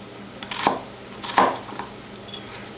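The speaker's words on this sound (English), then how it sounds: "And then chop them up very fine." A knife chops onion-like aromatics finely on a cutting board for tarka dal, a few sharp close taps with quiet pauses between them.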